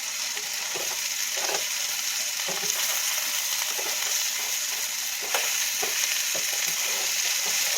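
Steady sizzling of rainbow chard frying in a pan, with soft intermittent stirring clicks and scrapes, close and moderately loud, no voices.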